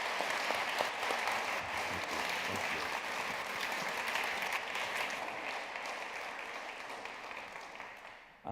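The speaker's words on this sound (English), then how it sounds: "So should we give a massive round of applause for Paul Hobbs?" Sustained audience applause at a Christian event on Jesus and justice, honoring an artist. A dense, even wash of clapping runs for several seconds near the listener, then tapers off toward the end.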